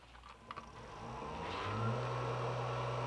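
A disc sander grinds a flat across a knife blade, starting as a few faint scrapes and then settling into a steady, fairly quiet whir with a low hum that swells slightly and holds.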